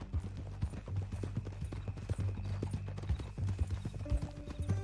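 Horse hooves clip-clop at a steady walking rhythm in the video game Red Dead Redemption 2, close and continuous, with soft tonal music entering near the end.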